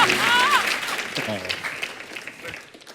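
A live comedy show audience breaks into applause that starts loud and gradually tapers off, with a voice speaking over the clapping.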